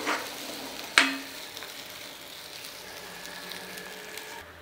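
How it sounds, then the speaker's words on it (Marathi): Masala with raw green chili and garlic sautés in a pan for palak amti, giving a soft continuous sizzle. A single sharp clink lands early, then the frying hiss continues quietly and steadily until it cuts off at the end. "आणि सगळा मसाला छान परतला जातो. मिरची लसूण आपण कच्चाच टाकलेला आहे, ते सुद्धा यात परतलं जातं."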